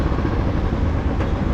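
A motorcycle exhaust with a normal silencer and a rubber fitting rumbles loud and close in a steady, throaty low drone over a short stretch.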